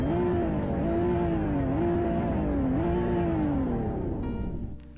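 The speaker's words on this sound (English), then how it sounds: "Alright, now let's hear this thing rev." A 2025 Toyota Camry engine revving in the Greenville driving game, loud and close, its pitch climbing and dipping through several throttle blips before it settles back toward idle.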